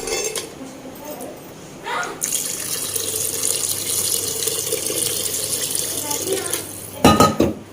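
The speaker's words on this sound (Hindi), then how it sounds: "इसमें डाल दूँगी अब मैं पानी" Tap water runs into a kitchen pot holding cut potatoes and bottle gourd, a steady close splash that begins after a short clatter of dishes and ends with a few clanks of the pot.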